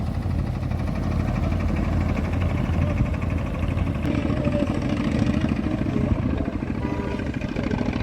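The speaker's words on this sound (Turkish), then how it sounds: "akşama doğru ard arda tekneler geçmeye başladı" Motorboats on a lake at Küçükçekmece, Istanbul, pass one after another toward evening, a steady mid-pitched engine drone holding near and loud throughout with a faint shift partway through.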